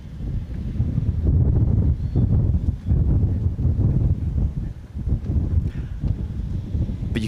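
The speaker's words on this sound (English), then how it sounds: "you can hear the gust of winds" Gusts of wind buffet the microphone on a footgolf course, a loud steady rumbling roar that swells and eases across the whole stretch with no talk.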